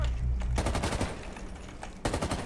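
Automatic gunfire in the shooter game Rainbow Six Siege, a burst of rapid sharp shots that rattles through most of the stretch, pauses briefly, then resumes with another loud volley.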